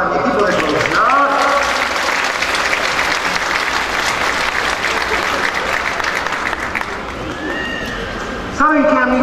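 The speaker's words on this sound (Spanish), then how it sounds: "fuerte aplauso para mi equipo de producción" Audience applause at a Christmas storytelling stage show in Zaragoza, loud sustained clapping filling the hall from nearby, with voices and cheers mixed in and a brief shift near the end.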